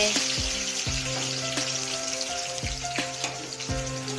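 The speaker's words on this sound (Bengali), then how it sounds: "আমি এখন আলুটা ভেজে নিলাম, এরপরে তেজপাতা পেঁয়াজ দিয়ে" Potatoes, bay leaf and onion frying in a pan, a steady crackling sizzle with repeated clinks and scrapes of stirring throughout, no talking.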